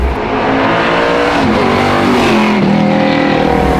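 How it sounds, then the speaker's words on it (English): A NASCAR-derived V8 in a Camaro with straight-cut gears revs hard and loud up close, a sustained rising and falling engine roar that fills the whole stretch without any voices. "A high revving V8 is just like my personal favorite."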